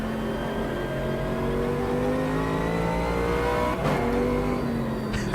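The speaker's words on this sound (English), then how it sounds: "those downshifts are quite brutal sounding" A GT race car in the Automobilista 2 racing game roars steadily and loudly, its engine dropping through harsh downshifts near the end, with no talk over it.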